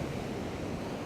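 Brief, steady wash of ocean surf at Sharpes Beach before sunrise, a broad continuous roar of breaking waves mixed with some wind buffeting the microphone.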